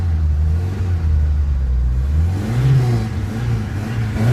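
A 1963 Mk1 Ford Cortina restomod, a classic British sleeper, starts up and settles into a steady, loud engine run, its deep rumble and low throb continuous with a slight rise in revs partway through.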